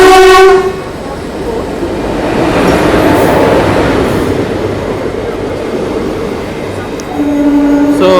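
Passenger train pulled by a Vijayawada-based WAP4 electric locomotive passing close by, with a loud sustained horn blast at the start and again at the end over a heavy rolling rumble of wheels and carriages.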